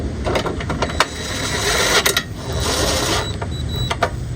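An 8mm impact driver snugs bolts on a Generac generator recoil starter, giving several short rattling bursts of hammering close by, separated by brief pauses and light clicks.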